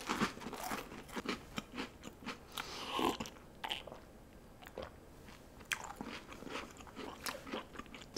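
Close crunchy bites and chewing of a Korean yakgwa honey cookie topped with Gosomi crackers, several crisp crunches spread over a quiet background.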